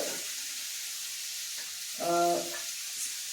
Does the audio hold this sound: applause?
no